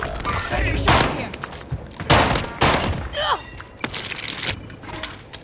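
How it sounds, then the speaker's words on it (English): Heavy gunfire bursts strike near the player in a multiplayer shooter, loud close impacts and crackling shots in uneven clusters, with voices talking over the action. "I'm getting shot here."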